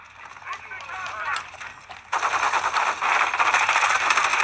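Sustained automatic gunfire in Call of Duty: Modern Warfare 3 multiplayer, faint and scattered at first, then swelling into a loud, continuous rattle of rapid shots.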